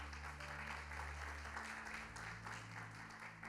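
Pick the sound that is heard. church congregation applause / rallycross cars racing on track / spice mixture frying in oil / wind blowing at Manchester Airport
church congregation applause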